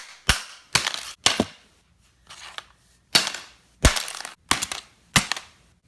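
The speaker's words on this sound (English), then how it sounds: "You get an ice scraper, and you start scraping the ice off, or brushing it off." An ice scraper scraping ice off an iPhone X screen, heard as about seven loud, close, sharp crunching strokes in an uneven rhythm with brief quiet gaps between them.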